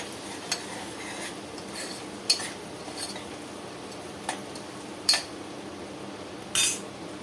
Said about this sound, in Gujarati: એની જે પેસ્ટ કરી હતી એ આપણે હવે ડુંગળીમાં એડ કરશું બરાબર મિક્સ કરી લઈએ